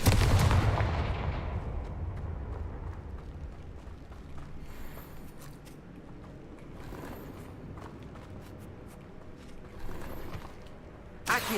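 A Confringo blasting spell cast in the Hogwarts Legacy video game bursts loudly at the start, then fades into a lingering rumble with scattered lighter impacts and clatter.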